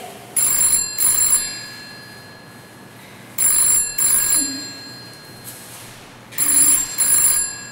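A telephone rings in three separate bursts, each a pair of bright, rapid electronic trills, with quiet pauses between them and no talk.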